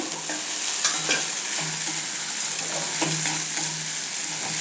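Okra sizzling and frying in a pan with the lid just lifted, a continuous bright hiss with crackles and a few stirring scrapes and clinks near the microphone, no voices.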